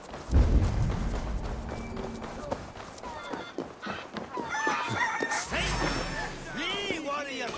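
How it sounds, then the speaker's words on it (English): Fighting roosters in Assassin's Creed Valhalla cluck and crow among game sounds, with a voice talking over them before rising crowing calls toward the end. "You mean Hemminger's famous fighting roosters?"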